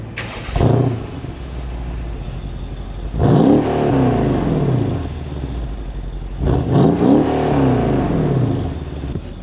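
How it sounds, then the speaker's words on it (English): A Mercedes-AMG 5.5 litre twin-turbo M157 V8 on its factory exhaust fires up and revs three times, each blip a deep muffled surge that rises and falls back to idle, close by and alone. "Doesn't sound bad for a factory exhaust at all, but it definitely could be louder"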